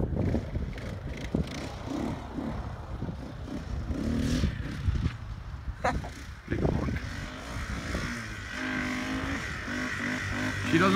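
Kawasaki Bayou KLF400 2WD ATV engine revving up and down outdoors in strong wind, rough and fairly loud, with gusts buffeting throughout.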